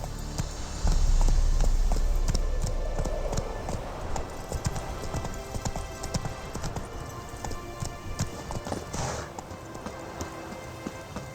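Roach, Geralt's horse in the Witcher 3 video game, gallops with a rapid, loud run of hoofbeats that slows into softer, uneven clip-clops, with light rain-like patter behind.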